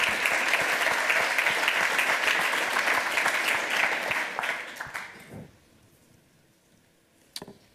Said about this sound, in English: give him a huge round of applause for finishing it on time